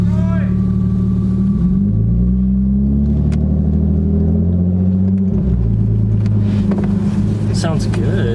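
Straight-piped BMW E36 325i inline-six heard from inside the cabin with the windows open, a loud droning exhaust rumble that rises and falls through the revs, with a voice talking over it.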